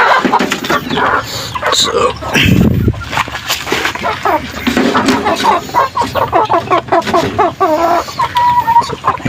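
Backyard breeder chickens, three hens and two roosters, cluck steadily at close range, with short bursts of fowl calls over one another and a brief spoken word at the start.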